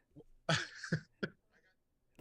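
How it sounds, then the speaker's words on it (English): A person coughs several times in short, close bursts, a couple of sharp hacks followed by a smaller one, with quiet gaps between. "No, I'm coughing now."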